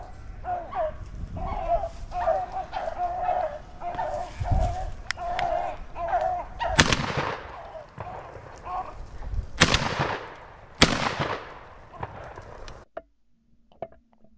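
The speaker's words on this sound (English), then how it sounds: "I think the second shot is the one that maybe crippled this rabbit" Shotgun blasts during a rabbit hunt in Pennsylvania, two or three sharp loud reports several seconds apart, with hounds baying and yelping between them outdoors.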